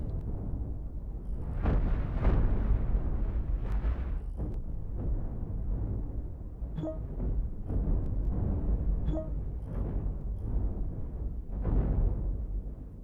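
Overclocked stack cannon rounds fire in a video game, heard as a run of heavy booming bursts and crackling impacts, some sharper pops ringing out over a rumbling bed, with no speech.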